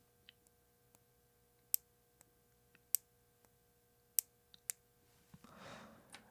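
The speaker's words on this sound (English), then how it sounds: "This switch has a sharp click when it actuates" A tactile switch gives a series of sharp, isolated clicks as it is pressed, crisp and close in a quiet room, followed by a soft breathy rustle at the end.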